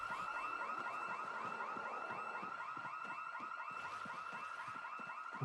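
A car alarm blares in a video game, its rapid repeating electronic pulse cycling steadily and loudly for the whole stretch, with faint clicks and knocks underneath.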